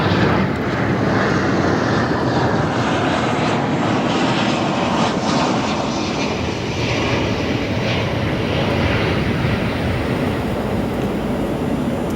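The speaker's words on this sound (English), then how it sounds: "And here comes our next arrival from Vegas" An airliner arriving from Las Vegas at Chicago O'Hare airport produces a loud, continuous jet engine roar that holds steady throughout, broad and rumbling with no breaks or voices.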